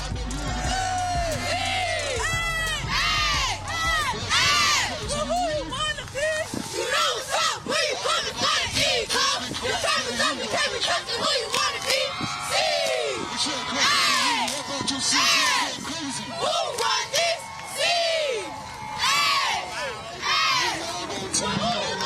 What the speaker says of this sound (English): We're going to start off with a cheer from the Lady Eagles